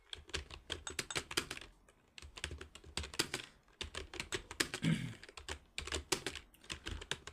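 Fast, steady keystrokes on a computer keyboard during touch-typing lesson practice, close and clear, with brief pauses between bursts and no talking.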